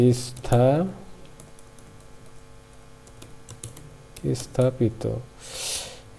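Rapid, uneven clicks of typing on a computer keyboard while entering text for a school front page in MS Word, with a voice talking before and after the keystrokes.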